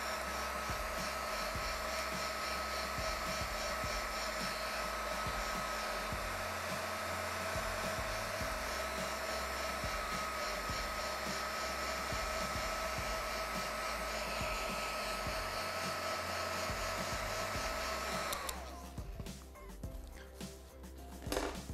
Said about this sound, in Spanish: Aceleramos un poquito el proceso con el secador.